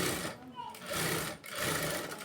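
A sewing machine runs around the neckline of a blouse, whirring in two close, steady bursts with a brief pause between.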